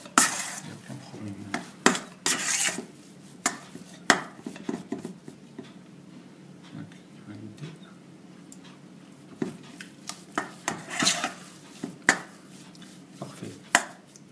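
Potato stuffing with fromage blanc mixed in a bowl for stuffed potatoes with lardons, heard as irregular close scraping and tapping of a utensil against the bowl, with short clinks at scattered moments.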